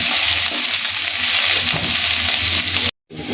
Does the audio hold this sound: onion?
yes